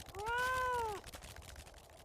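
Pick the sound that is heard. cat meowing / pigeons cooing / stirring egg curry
cat meowing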